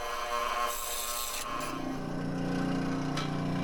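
A saw cuts through thin 1/4 inch plywood in one steady, loud, close pass, a continuous rasping buzz whose tone shifts partway through the cut, with no voices.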